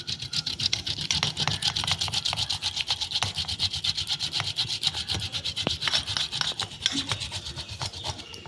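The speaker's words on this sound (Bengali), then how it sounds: "এই যে দুটো আলু আমি এরকম করে ভালো করে গ্রেট করে দিচ্ছি এর মধ্যে" Two potatoes grated by hand for sabu luchi dough, a rapid rhythmic rasping scrape repeating steadily and closely throughout.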